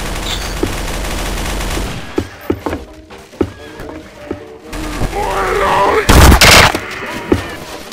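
Gunfire in Counter-Strike: Source zombie mod comes in loud bursts and single cracks, with thuds and scattered game noise between them, building to a dense volley near the end.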